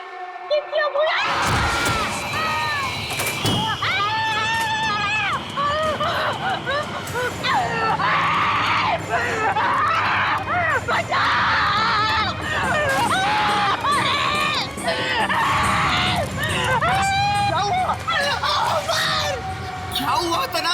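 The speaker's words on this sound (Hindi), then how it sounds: "क्यों चिल्ला रहे हो?" Several people scream loudly and continuously amid a chaotic crowd din in a horror drama scene, with shrill overlapping cries and shouting sustained throughout.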